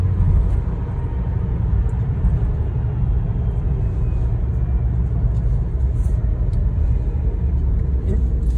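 A modified Renault Sandero's tampered exhaust rumbles steadily in a Tehran street drive, a continuous low drone filling the whole stretch with faint traffic around it.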